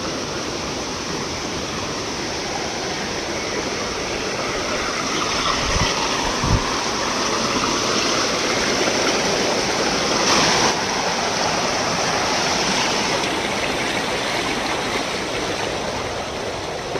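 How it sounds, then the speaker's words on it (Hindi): Neer Garh waterfall near Rishikesh, Uttarakhand, roars with a loud, steady, continuous rush of falling water that stays even throughout, with no voices. "ये देखिए, हम आपको इस झरने के अंदर लेकर चलते हैं।"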